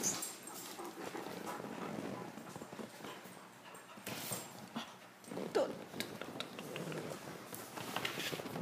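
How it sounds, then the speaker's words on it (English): A boxer puppy plays energetically, with scattered yips, whimpers and panting-like bursts amid a busy, noisy room where people talk in the background. "Mona playing with Evie, the boxer puppy"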